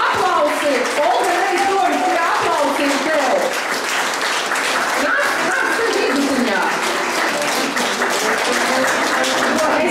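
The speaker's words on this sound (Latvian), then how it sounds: "Aplausi!" Sustained, loud, full-room applause from a crowd at a folk ensemble's anniversary concert, steady throughout with scattered laughter and cheering voices mixed in.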